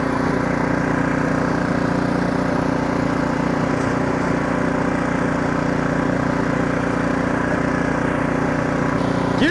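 Ariens Professional 32-inch snowblower engine running steadily in gear, a loud, continuous close-up drone with constant mechanical hum throughout and no pauses or speech.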